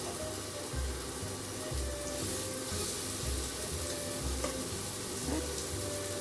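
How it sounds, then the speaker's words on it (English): Shrimp sizzling as they fry in a hot pan for fish and shrimp tacos, a steady close hiss with low thumps and faint clatter throughout. "Nice sizzle."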